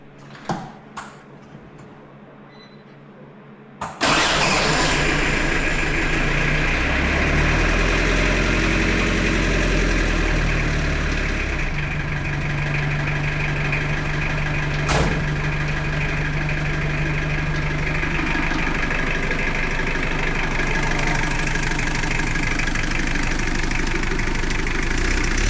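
A diesel-powered Suzuki Samurai cranks briefly after a few quiet clicks, then fires and settles into a loud, close, steady idle with a rough knocking clatter that continues to the end, with no talking.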